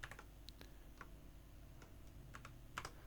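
Quiet clicks of a computer keyboard as code is typed, scattered keystrokes in irregular bursts, some faster runs, soft and near over a low background hum.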